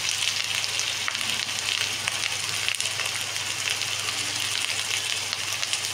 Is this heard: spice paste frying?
yes